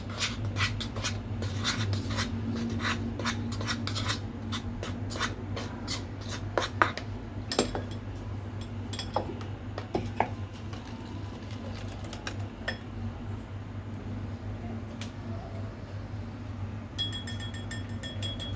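Brownie cookie batter with vanilla is stirred in a bowl, with repeated soft scrapes and light clinks of a utensil over a steady low hum.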